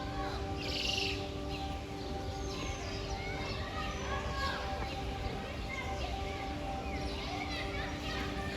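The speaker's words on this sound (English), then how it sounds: "Look at these beautiful, colorful birds." Birds in a zoo aviary enclosure holding egrets and night herons call and chirp intermittently over steady background hum and distant children's voices and chatter from visitors.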